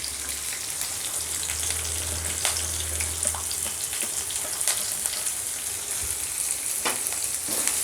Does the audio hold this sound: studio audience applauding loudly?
no